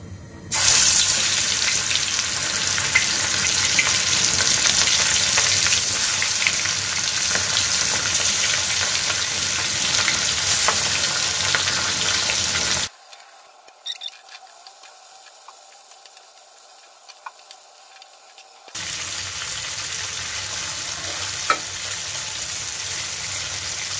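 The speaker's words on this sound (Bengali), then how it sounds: "এবার আমি এক এক করে মাছগুলো ভাজা দিয়ে দেব" Bele fish frying in hot soybean oil, a steady dense sizzle that runs loud and close, drops to near silence for several seconds in the middle, then resumes at a slightly lower level.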